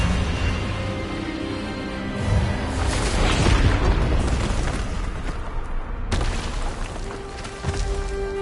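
Expelliarmus spell cast in the Hogwarts Legacy video game: a deep booming burst that swells into a rumbling blast, cuts off abruptly, then a second impact follows.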